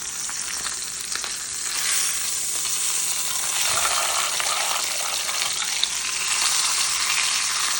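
A large Schäufle pork roast searing in a pan, giving a loud, dense, continuous sizzle that swells slightly partway through, heard up close with no talking.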